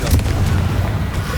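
A Confringo spell blast in the Hogwarts Legacy wizard game, a single loud, deep booming explosion that rumbles through the whole short moment.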